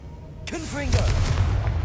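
A Confringo blasting spell in Hogwarts Legacy bursts into a loud explosion with a deep rumbling tail, after a short voice-like sweep at its start.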